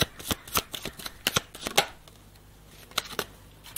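A deck of playing cards is shuffled in quick riffling bursts, with several sharp flurries early on, a quieter pause, then a few more snaps near the end, close and fairly soft.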